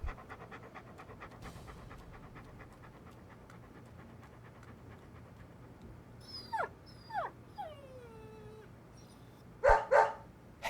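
Dog panting steadily in the video game Deadly Premonition, then a few sharp high barks and yelps near the end, close and clear with no talking.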